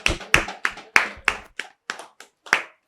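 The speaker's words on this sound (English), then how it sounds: "Hands of applause for her." A small group at a facilitator training rehearsal claps for a participant, about ten distinct, fairly close claps in a loose uneven rhythm that thin out and fade toward the end.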